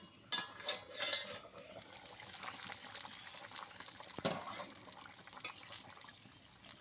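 A lid clinks off a pot of simmering rohu fish curry with potatoes, a sharp metallic clatter near the start, then a steady soft bubbling and hiss of the curry boiling, with a faint knock midway.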